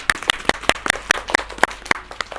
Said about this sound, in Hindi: ज़ैनब के लिए बहुत सारी तालियां।